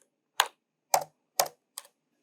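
Four separate keystrokes on a computer keyboard, crisp close clicks spaced about half a second apart while typing a command in a Kali Linux terminal, with no talking.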